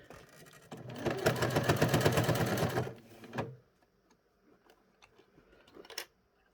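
A sewing machine stitches a small belt loop on a doll's dressing gown, running in one close, rapid burst of about two seconds, followed by a few clicks and light handling noises, then quiet; no voices are heard.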